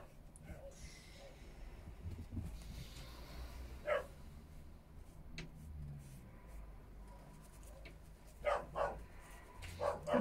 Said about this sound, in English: sausage dog out there shouting.